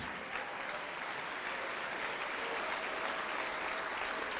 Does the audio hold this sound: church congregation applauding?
yes